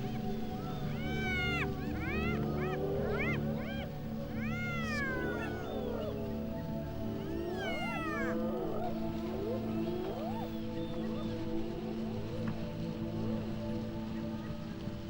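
Spotted hyenas of the African savanna calling at night, a series of rising and falling whoops and yelps repeating over several seconds above a steady low background hum.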